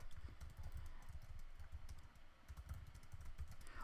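Steady stream of keystrokes on a computer keyboard, a busy irregular clatter of light clicks that runs continuously with brief pauses, close and fairly quiet, no voices.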